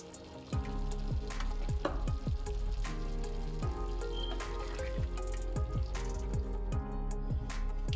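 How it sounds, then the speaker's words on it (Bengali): Paneer cubes fry in a pan for a shahi paneer made without onion, garlic, ginger, curd, milk or cream, giving a steady, close sizzle with repeated clinks and scrapes of stirring throughout. "এবারে আমি পনিরগুলো দিয়ে দেব"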